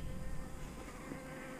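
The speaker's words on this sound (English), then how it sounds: "And the bees have been working this." Bees hum around blooming elder flowers in a garden, a brief, even, close buzz that holds steady for under two seconds with no talk.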